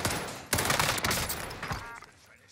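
Gunfire in the video game Call of Duty Warzone: a dense fusillade of shots with loud bursts starting abruptly, continuing through the clip and fading toward the end.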